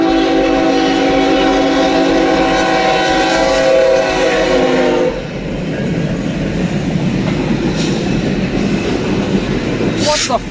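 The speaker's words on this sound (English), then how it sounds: "The train narrowly missed hitting them, creating a heart-stopping moment." A train thunders past at close range at a railroad crossing, a loud continuous rumble and rattle with a sustained horn blast early on, fading into roaring wheel noise.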